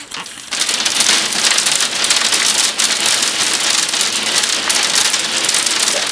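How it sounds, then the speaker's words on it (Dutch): Heavy hailstorm pouring down in Rotterdam, a dense, steady hiss of stones striking surfaces that surges in after a brief quieter moment and stays loud and continuous throughout, with no voices. "Er komt een enorme hagelbui naar beneden."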